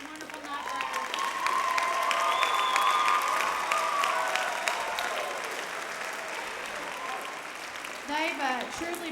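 A school audience at a junior high spring band concert claps loudly and steadily, with whoops and cheers rising above the applause, which fades somewhat in the final seconds as voices carry over it.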